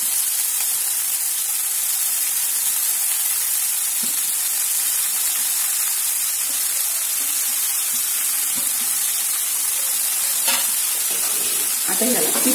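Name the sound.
chopped fenugreek leaves stirred and frying in a pan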